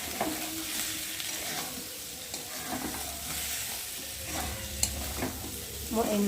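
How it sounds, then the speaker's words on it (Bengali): Vegetables fry and sizzle in a pan while being stirred, a steady close sizzle broken by scraping spoon strokes, with no talking. "দিয়ে একটু ভালো করে ভেজে নেবো"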